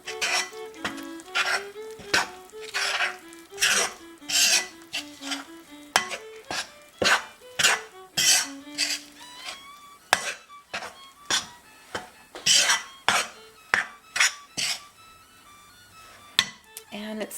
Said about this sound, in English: it's starting to get hard to stir